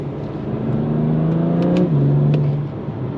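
BMW M2 Competition, 410 horsepower, in Long Beach Blue, accelerating hard: a loud, steady engine drone climbing in pitch, a quick gear change near the middle, then the drone pulls on before easing off.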